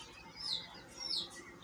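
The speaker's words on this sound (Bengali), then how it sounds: "ছাব্বিশটা কয়েল পাখি আছে" Quail birds kept indoors on a small farm give two short, high chirps about half a second apart, faint and unaccompanied, over a low background hiss.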